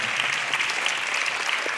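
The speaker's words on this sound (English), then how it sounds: "Nice round of applause." An audience at a songwriters' session in a high school hall breaks into a round of applause, a dense, even wash of many hands clapping that holds steady throughout, close and full with no voices over it.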